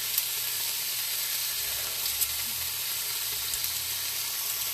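A huge piece of birria meat sears in an Instant Pot with a loud, steady, continuous sizzle and hiss close up, broken only by a few small pops; no one speaks.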